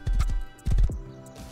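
A saddled horse in the survival game Rust clip-clops over hard ground in two short bursts of quick hoof steps, fairly close and moderately loud, with no voices.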